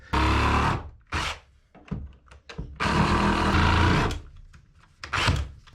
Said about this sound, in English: that is the reason I bought a little cordless reciprocating saw, because it's perfect for this little project